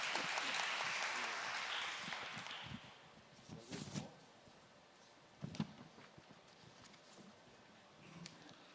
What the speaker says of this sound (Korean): 박수 부탁드리고.